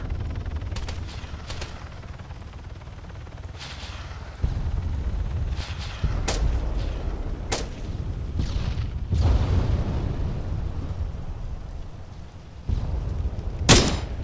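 Gunfire rings out in an Arma 3 battle on Stratis: scattered sharp shots and bursts, some close and loud, others more distant, over a steady low rumble with no talk.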